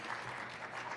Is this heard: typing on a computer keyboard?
no